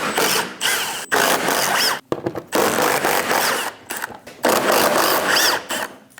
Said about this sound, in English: removing all of the bolts